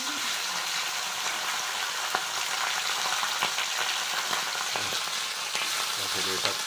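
Fish, fresh organic fish from clean local water, frying in a small amount of oil: a steady, close sizzle crackles throughout with occasional light clicks and pops.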